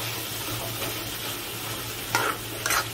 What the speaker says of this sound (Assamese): শুকান মাছ দি বেঙেনা ভাজি বনাই আছোঁ